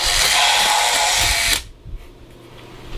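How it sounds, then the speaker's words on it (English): A plastic kid's Power Saber toy lightsaber whirs loudly as its motor drives the blade to extend or retract, a steady buzzing drone for about a second and a half before cutting off abruptly into near silence. "when you turn it on and off, you do hear the motor"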